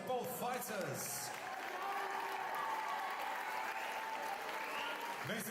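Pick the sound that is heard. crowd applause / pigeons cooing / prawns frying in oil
crowd applause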